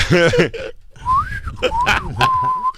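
A thin, wavering whistle rises and falls in pitch through breathy air, with short breathing noises between the tones, close and fairly loud.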